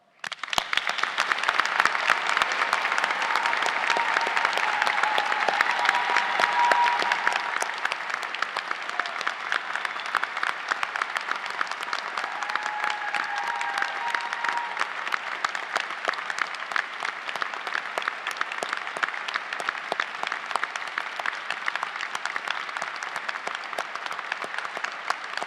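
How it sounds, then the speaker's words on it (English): Long, steady applause from a large audience at a university degree ceremony, dense rapid clapping that stays loud and even for over twenty seconds with faint crowd murmur beneath. "Let us give this amazing group of people one last huge round of applause."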